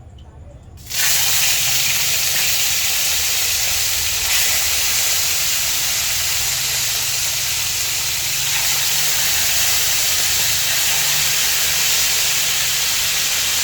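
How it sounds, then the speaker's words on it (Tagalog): Marinated chicken hits hot oil and bursts into a loud, close, continuous sizzle that stays steady and bright for over ten seconds, with no speech over it. "Prito lang ako ng binabad kong chicken."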